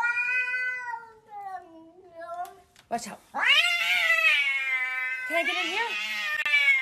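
A cat meows and caterwauls loudly at close range in a home, its drawn-out, wavering yowls coming in several bursts between a person's short spoken lines.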